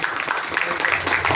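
Applause fills a hall at an ex-servicemen's honouring ceremony in Gangapur City as a retired soldier is recognised: a dense, steady patter of many hands, close and sustained throughout, with a voice running faintly underneath.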